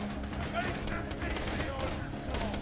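Rapid burst gunfire from a weapon in Borderlands 2, sounding as repeated sharp shots in quick clusters that run steadily through the moment, fairly loud amid game noise with some voice underneath.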